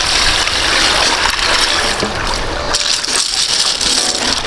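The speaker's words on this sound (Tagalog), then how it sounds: "So, bubukusan ko ng tubig mga kalab para hindi po siya matuyo." Water is poured over a heap of freshly gathered crabs to keep them moist, a loud, continuous splashing gush with no voices.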